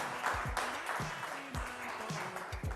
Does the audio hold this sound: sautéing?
no